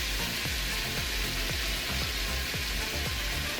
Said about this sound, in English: we're going to allow this to saute or fry up in here